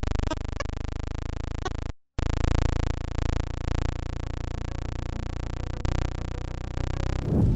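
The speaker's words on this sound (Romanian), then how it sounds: "Sunetul lunii este foarte înfricoșător și sună aproape ca o eroare." A space recording presented as the sound of Saturn's moon Titan: a steady, buzzing electronic drone with a glitchy, error-like tone, broken by a short gap of silence and a few sharp clicks.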